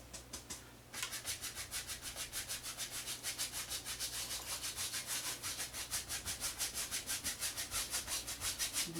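A paintbrush makes quick crisscross strokes over canvas in an oil painting, producing a steady, rhythmic scratchy rubbing that pulses several times a second, close and fairly quiet.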